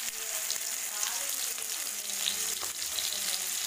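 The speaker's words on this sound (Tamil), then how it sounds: "எண்ணெய் ஊற்றி நல்லா வணக்கணும்" Tomatoes sauté in oil while making a Coimbatore-style onion chutney, with a continuous hissing sizzle close by and faint stirring.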